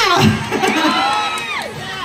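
A crowd shouts and cheers, with rising and falling yells and whoops blending into a loud, continuous roar.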